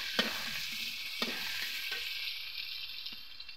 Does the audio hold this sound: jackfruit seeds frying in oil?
yes